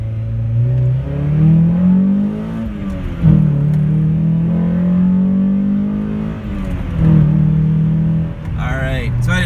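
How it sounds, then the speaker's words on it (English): Engine of a high-mileage 2001 Honda Prelude SH revving close up, pitch rising and falling through three strong climbs with a steady idle-like drone between them, loud and alone. "look at the RPMs climbing"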